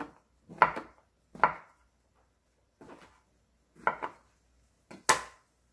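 A knife cuts king oyster mushrooms on a board, giving about six separate soft thuds with quiet pauses between them, close and faint.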